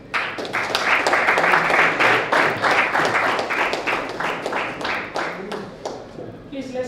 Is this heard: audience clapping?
yes